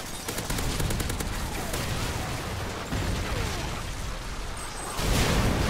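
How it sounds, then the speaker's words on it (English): Loud, continuous gunfire and explosions in a Call of Duty Modern Warfare 3 Dome multiplayer match, rapid automatic bursts layered over booming blasts, with a heavy new blast near the end. "so much explosions"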